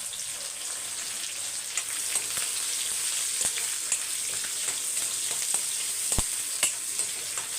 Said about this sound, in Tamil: வெங்காயம் பாருங்கள் பாதி வதங்கிடுச்சு.